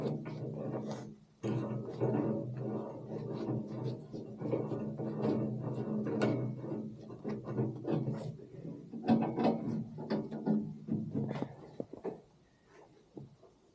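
A clamp screw on a debris fork for moving logs is spun down onto a tractor bucket, producing a long run of close metallic rattles and scraping clicks that fades out at the end.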